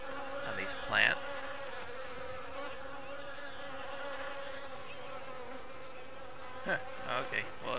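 Bees buzzing around flowering plants in the wolf video game WolfQuest, a steady drone of insect wings with a few louder passes near the start and end.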